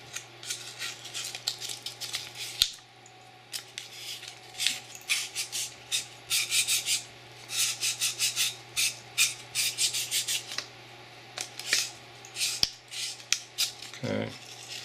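An FN Five-seven pistol feed ramp being roughened by hand, a rapid, close, scratchy rasping in repeated short bursts with brief pauses, fairly quiet and dry.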